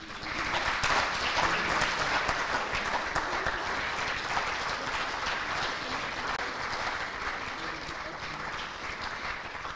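A banquet audience at an FFA event applauds the seniors, with dense, sustained clapping that runs steadily throughout and fades slightly toward the end.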